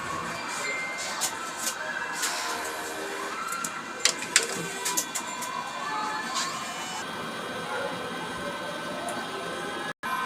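A DTF printer runs a nozzle check, giving a continuous mechanical whir with faint tonal hums and light clicks that end in a sharp click near the close.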